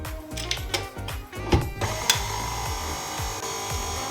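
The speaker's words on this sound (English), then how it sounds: "put in a third of your flour mix and give that a stir" A spoon stirs a third of the flour mix into Funfetti cake batter with milk in a mixing bowl, making soft, rhythmic scraping strokes that repeat steadily and close by.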